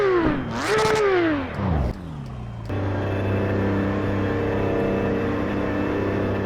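Porsche 911 GT3 engine in the racing game Assetto Corsa EVO at the Nordschleife, revving hard through rising and falling pitch sweeps, then dropping to a steady idle drone, loud and close with no talk.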